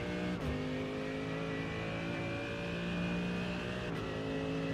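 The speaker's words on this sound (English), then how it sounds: "I love the way this car sounds, man. Those downshifts are just brutal." GT3 race car in the iRacing sim, engine loud and continuous with a steady drone, sharp blips at two points as it downshifts and revs.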